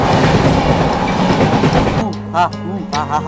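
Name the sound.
Malabar Express train departing Thiruvananthapuram Central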